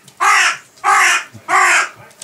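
A crow caws three times in an even rhythm, loud and close, each harsh call lasting about half a second, with faint background noise between calls.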